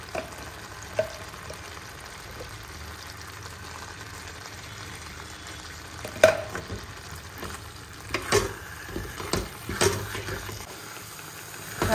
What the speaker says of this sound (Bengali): এবার একটু বেশি করে ঘি দিয়ে এটাকে আরও ভাজা ভাজা করব।